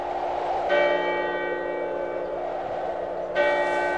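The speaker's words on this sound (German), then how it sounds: "Die sich langsam über dem Horizont erhebende Sonne wird begrüßt von der kleinen Glocke der" A small chapel bell on the summit of Mount Sinai rings out in two clear strikes about three seconds apart, each leaving a long, bright ringing tone that hangs in the open air.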